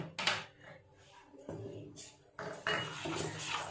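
Malpua batter being stirred with sugar in a bowl, spoon scraping and clinking against the dish in bursts, fairly close, with faint background noise and no talk.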